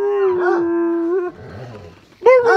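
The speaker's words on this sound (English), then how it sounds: "He doesn't like having his picture taken, so when he sees somebody doing this, he just barks at him." Dog howling with long drawn-out harmonic wails, close and loud, with a brief low rumbling growl in the middle before the howls resume.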